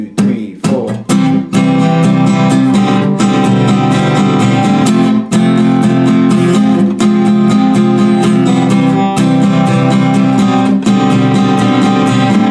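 Acoustic guitar strums the chorus chords of a song at full tempo, a steady, dense stream of rhythmic strokes ringing out loud and close with no voice over it.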